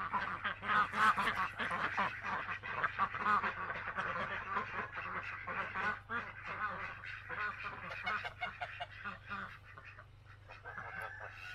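A homestead flock of ducks quacks continuously in a dense, overlapping chorus, mingled with goose honks, loud and close throughout.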